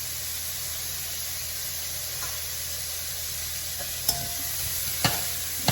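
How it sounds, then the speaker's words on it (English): Vegetables sizzle steadily in a pan for a Creole sauce, with a continuous hiss broken by a couple of sharp clinks from stirring near the end. "You want to make sure you're stirring it so the vegetables do not burn."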